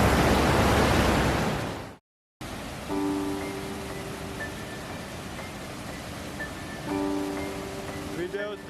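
Water flows steadily in a green, chilly natural spot in Samegrelo, Georgia. A broad, continuous rushing roar is cut by a brief gap, then carries on more softly, with faint tonal sounds over it.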